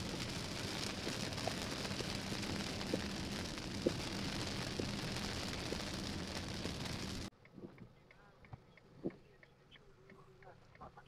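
Steady, dense rain hisses loudly for about seven seconds, then stops abruptly, leaving quieter scattered drips and small sounds.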